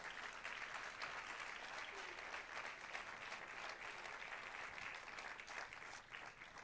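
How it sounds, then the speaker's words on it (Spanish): Church congregation applauding during a Sunday worship service, steady dense clapping sustained throughout at moderate distance, with no voices standing out above it. "¿Puedes darle un aplauso al Señor?"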